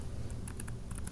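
Quiet, light clicking of a computer keyboard as someone types a search, a few scattered keystrokes over a soft background hum.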